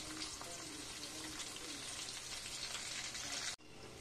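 Ginger garlic paste and spices sizzle in oil in a kadai for a veg kolhapuri curry, a steady, fairly quiet frying hiss that stops abruptly near the end, leaving a softer sizzle behind.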